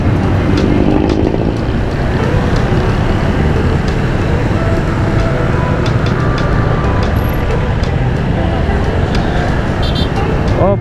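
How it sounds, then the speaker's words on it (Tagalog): Busy street traffic in Taguig, Metro Manila, with many motorcycles among cars and buses, a constant loud roadway rumble with engines passing close by throughout. "Daming motor dito ngayon ah."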